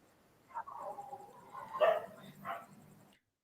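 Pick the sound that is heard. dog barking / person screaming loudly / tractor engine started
dog barking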